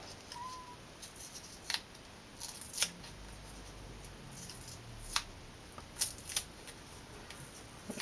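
Scissors snip through double-sided tape for a handmade snowman penny slider card, giving several short, quiet cuts at irregular intervals against a faint background hiss.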